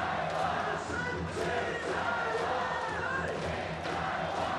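Crowd at a World Baseball Classic game in Taiwan between Chinese Taipei and the Netherlands, a dense continuous roar of cheering and chanting fans filling the stadium.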